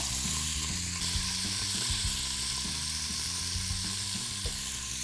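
Meat sizzles loudly in a hot pan while cooking Turkish çoban kavurma, a steady bright hiss with occasional pops and clinks of a utensil stirring underneath.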